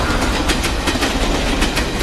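A train rolls along the rails in a dramatic film scene, giving a steady broadband rumble with rhythmic clickety-clack beats from the wheels over rail joints, loud and continuous.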